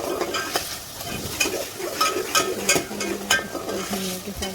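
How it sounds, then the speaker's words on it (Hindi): Minced meat keema frying in oil with coriander, ginger and garlic while being stirred, giving a soft sizzle under repeated scraping and clinking strokes of a spoon against the pan at close range. "धनिया के साथ इसको भून रही हूँ।"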